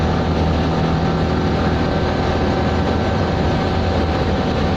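A Citroen 2CV's small engine is held flat out at full throttle at about 60 mph, a loud, constant droning roar mixed with road and wind noise that stays even from start to finish, with no talking.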